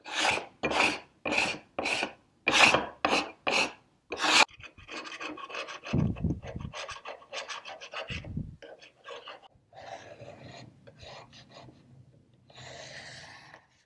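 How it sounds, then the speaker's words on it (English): Old scraper rasping wax off an ebony piece on a workbench, a run of quick distinct strokes first, then softer uneven scraping with a few low thumps, close and fairly quiet. "So I'm going to put this on the bench and we're going to scrape off this wax."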